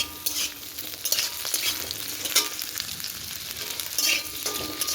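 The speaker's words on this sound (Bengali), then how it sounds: "এই যে আলু ভাজতে দিয়েছি" Potatoes fry in a pan at home, a bright continuous sizzle broken by bursts of stirring and scraping as the pieces are turned, close and fairly loud with no talking.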